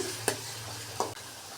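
Chopped green chillies fry in a pan for pasta, a steady low sizzle broken by two short sharp clinks of stirring, close and without talk.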